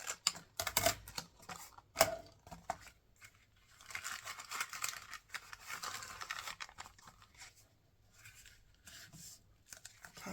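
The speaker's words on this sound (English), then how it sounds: "this only needs to be cut to the same, in a straight line." Scissors snip paper in a straight line for an altered vintage-style journal envelope, with several quiet, close cuts and rustles early on and then softer paper handling, with no speech.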